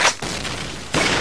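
A grenade explosion in the video game Run and Fire: a loud, broadband blast at the start, then sustained rumbling noise, with a second sharp burst near the end that carries on into a dense roar, no voices.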